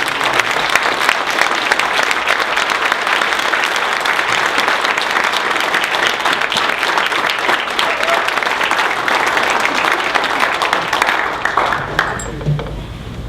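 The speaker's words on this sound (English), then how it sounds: "So I would like to have a big round of applause for Jeff Chidester." Audience applause for Jeff Chidester at a political reception, a loud, sustained burst of dense clapping that holds steady for over ten seconds before tapering off at the end.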